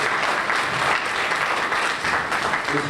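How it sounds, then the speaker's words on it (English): Sustained applause fills a banquet hall as the fund board members stand at a donors' appreciation dinner, with dense, even clapping from a large audience continuing without a break. "Let's give them a round of applause."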